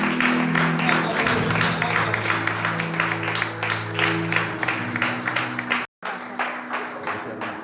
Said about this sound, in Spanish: con un fuerte aplauso al Señor vamos a recibir